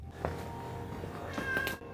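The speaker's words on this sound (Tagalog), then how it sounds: "Wow, nandun mismo ang pusa. Malaking pusa." A large adult cat gives a couple of short meows, clear and fairly close, inside an abandoned temple in Japan.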